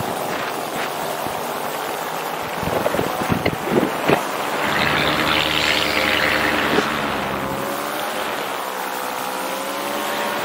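Wind roaring past during a subzero paramotor flight along the English coast, a loud continuous rush with a steady engine drone beneath it and several gusty buffets in the middle.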